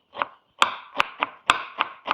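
A knife finely chopping onion on a cutting board, seven or eight crisp close taps in an uneven quick rhythm, heard alone in a quiet kitchen.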